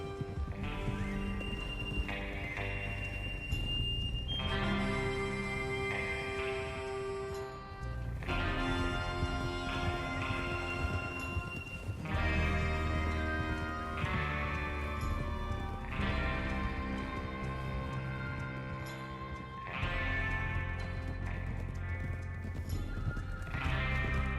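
Horses gallop and neigh in the video game Red Dead Redemption 2: a steady, close clip-clop of hooves runs throughout, broken by several loud whinnies.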